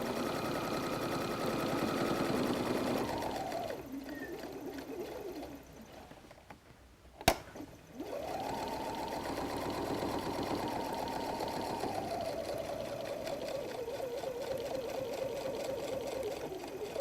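A sewing machine runs in long steady bursts while stitching a pleated pocket onto a messenger bag, with a pause and a sharp click midway, and pigeons cooing in the background.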